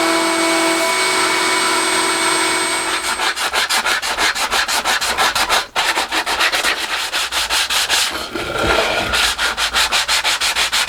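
A small wooden piece, a cut-out butterfly or daisy, gets final hand sanding in a small workshop shed: steady close rapid back-and-forth rasping strokes, loud and continuous with a brief pause midway.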